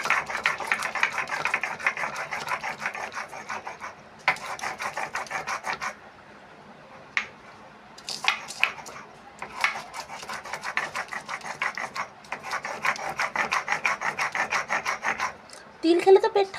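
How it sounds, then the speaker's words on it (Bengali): Green chili is ground on a stone grinding slab after sesame seeds, with repeated rapid scraping strokes in bursts separated by short pauses, close and moderately loud. "একটু লঙ্কাটা বেটে নেব, একটা কাঁচা লঙ্কা বেটে নেব।"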